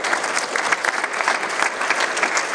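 Audience applause for the winner of a startup competition finale at a mayors' trade fair in Île-de-France, a dense, steady clapping crowd sustained throughout at close range.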